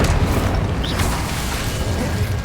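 A fire spell cast in the Hogwarts Legacy video game gives a steady, dense roaring whoosh of flame and rumble that fills the whole moment without pause.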